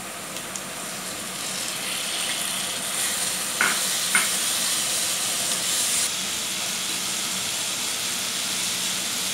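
Prawns frying and being stirred in hot masala oil, a steady close sizzle with a few brief scrapes of a spoon against the pan, no voices.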